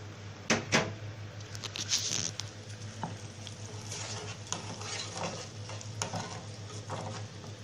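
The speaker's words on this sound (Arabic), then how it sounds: "هندوبهم كويس كده" Cumin, dried coriander, black pepper and chili get stirred into vinegar and water for koshari sauce, making close, uneven clinks and liquid swishes of a utensil against a bowl over a low hum.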